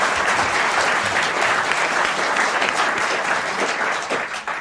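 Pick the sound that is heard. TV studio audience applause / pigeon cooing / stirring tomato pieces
TV studio audience applause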